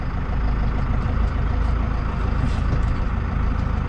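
New Holland TD5.110 tractor with a renewed brake system rolls forward, its diesel engine giving a steady, close, continuous rumble with no breaks.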